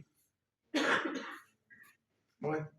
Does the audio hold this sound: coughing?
yes